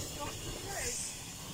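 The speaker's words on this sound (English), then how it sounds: "A nice little steam train." A small steam train hisses steadily, with a soft, continuous rush of escaping steam heard close by for a moment under faint background noise.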